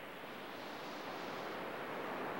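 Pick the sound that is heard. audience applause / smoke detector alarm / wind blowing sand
wind blowing sand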